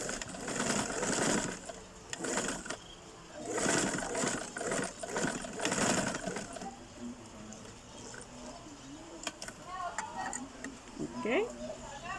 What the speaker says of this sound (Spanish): vamos a agarrarlo orilla con orilla de forma diagonal y cosemos a 1 centímetro de la orilla